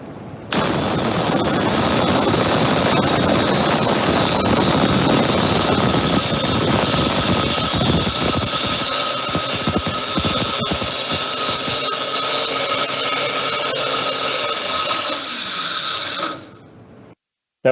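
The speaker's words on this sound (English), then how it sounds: "the amount of sparks coming off the grinding wheel is much higher" An abrasive grinding wheel grinds stainless steel in a steady, loud, unbroken roar lasting about sixteen seconds, then cuts off and fades as the tool winds down, with no talk.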